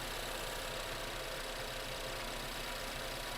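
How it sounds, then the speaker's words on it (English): A car engine idles steadily and normally, a continuous even hum with no change in pitch or rhythm, alone and at a moderate distance, heard during an air/fuel sensor diagnosis. "This is a normal running engine."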